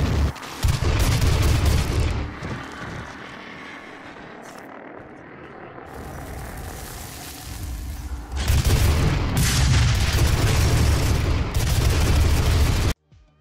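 Machine gun firing in the Doom video game, heavy, booming bursts of rapid fire over pounding rock music, with a quieter stretch midway before the loud firing resumes.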